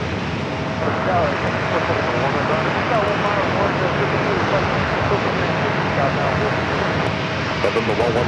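Japan Airlines Boeing 787 Dreamliner jet engines roar at San Diego airport, a loud, steady broadband rush that holds without letup, with faint radio chatter in the background.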